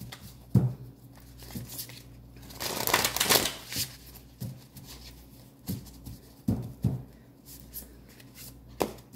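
Tarot cards riffled and shuffled by hand in close, crisp bursts, with a longer flurry in the middle and scattered single snaps and taps before and after; no talking.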